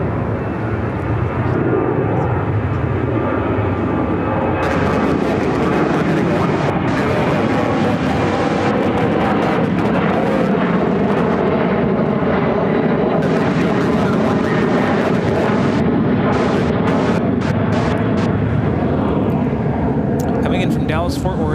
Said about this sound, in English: Dallas Fort Worth at 737-800 going around.